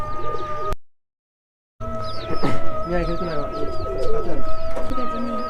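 Several pigeons coo softly and repeatedly nearby, with pecking and rustling sounds and a human voice speaking over them.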